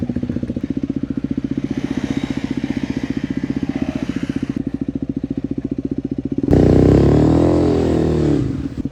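A motorcycle cold-started in a forest setting: steady rapid idle putter for several seconds, then a loud, close rev that swells and holds before settling back.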